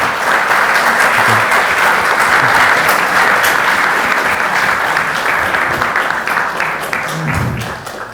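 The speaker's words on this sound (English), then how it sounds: "Thank you very much for the British clap, not the Tibetan one." Sustained audience applause in a lecture hall after a Q&A talk on the restful mind, a dense, steady wash of many hands clapping at close range that tapers slightly toward the end.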